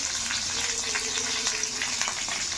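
Steady, close sizzling and crackling of curry leaves and green chilies frying in hot oil, continuous throughout with no talking.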